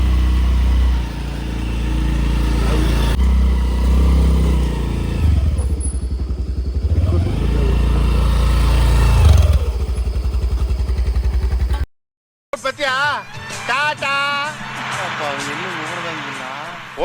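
Motorcycle engine running nearby as the bike is taken out for a ride, a steady loud mechanical drone that rises and dips in revs for about twelve seconds before cutting off, followed by a person speaking.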